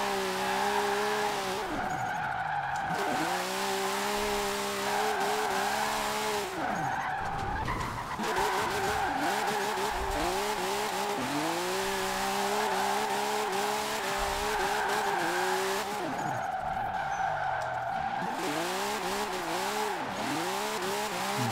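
Chris Forsberg's gripped-up Formula Drift car, about 1,000 horsepower on 30 pounds of boost, in a racing game: a steady loud engine drone with gear-change dips and repeated long tire squeals while drifting, and no voices.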